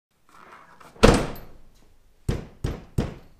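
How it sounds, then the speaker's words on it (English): A 1997 Toyota RAV4 door, fitted with sound deadening insulation on its inner metal panel, shuts with one solid, fairly loud thunk, followed by three more short, muffled door thuds close together. "This door also sounds more solid than before."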